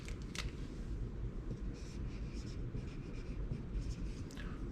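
Pen or marker strokes come in short scratchy bursts while a physics force diagram is drawn on a block problem, close and fairly quiet over a low steady hum, with no talking.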